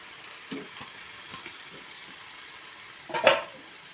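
Chicken pieces frying in a pan with ginger and small-onion paste for chicken pulao, a low, soft sizzle with occasional stirring scrapes and a louder clatter near the end, no voices.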